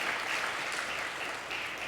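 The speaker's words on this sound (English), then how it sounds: "I'll take the applause" An audience claps at a talk on psychedelic drug testing, a dense continuous wash of applause from a large room, steady and fairly loud for under two seconds.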